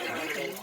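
Water gushes out of a person's mouth during kunjal kriya, the yoga cleansing practice of vomiting up drunk water, in a brief, close, splashing pour that trails off quickly.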